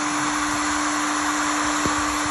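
A Seekone 1800W heat gun blows on its highest setting, a steady loud airflow roar with a sustained whine, constant throughout with no talking.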